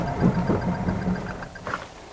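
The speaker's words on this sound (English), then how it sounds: "而且这个 Vios 的那个声音真的是噪音大哦" A Toyota Vios with a CVT drones steadily under acceleration during a performance test, its engine giving a continuous, moderately loud hum heard up close inside the cabin, with no talking.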